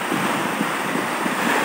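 Steady surf washes against the shore at Teluk Batik beach in Perak, Malaysia, under gusty wind buffeting the microphone, a continuous broad roar with no voices.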